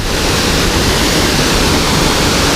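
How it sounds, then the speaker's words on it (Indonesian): Steady, dense roar of a waterfall on the Hiu Pitu falls stream, loud and close, a continuous rushing wash with no pauses and no voices. "Nah itu dia air terjunnya."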